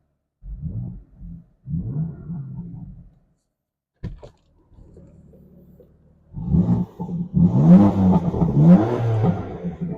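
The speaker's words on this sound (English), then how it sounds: "Go ahead and put it in sport. We'll give it a rev." A BMW M4 Competition engine idles, then revs up loudly twice in sport mode in rising bursts, close and throaty; a brief voice and quieter engine sounds come before.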